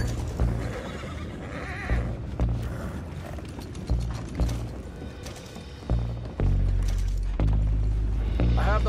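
Horses whinny and neigh repeatedly in a Red Dead Redemption 2 scene, loud and close, over steady clip-clop and rattling, creaking mechanical noise of gears and ratchets, with thumping low rumble throughout.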